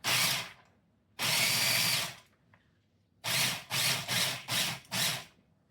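A loud electric chopper grinds walnuts in bursts: one short pulse, a longer two-second run, then four quick pulses in a row, with quiet gaps between.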